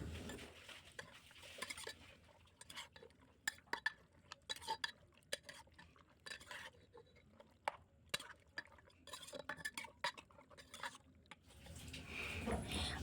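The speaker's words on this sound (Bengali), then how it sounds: "টমেটো কুচি পরিমাণ মতো লবণ আর দিয়ে দেবো সর্ষের তেল এবার সব কিছু একসঙ্গে মেখে নেবো" Mutton being mixed by hand with chopped tomato, salt, sour curd and mustard oil for a curry: irregular wet squelches, soft clicks and scrapes recur steadily at close range for several seconds, with no talking.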